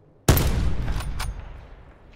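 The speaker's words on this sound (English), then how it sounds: "They have, they have a sniper or something." A sniper rifle shot in Call of Duty Black Ops 4 cracks loudly once, then trails off in a long echoing decay with a brief later crack, with no talking.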